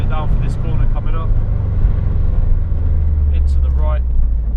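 A Subaru Impreza WRX STI powers down a straight on a track, its engine droning loudly and steadily with a deep, constant low-end roar while someone talks over it.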